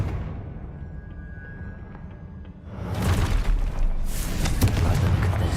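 A Confringo fire spell explodes in the Hogwarts Legacy video game, a loud sudden boom that follows a quieter stretch and leaves a rumbling, crackling blast that fills the rest of the moment.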